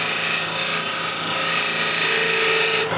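A bowl scraper cuts wood on a lathe, throwing off shavings with a loud, continuous hissing rasp that holds steady and then fades away at the end.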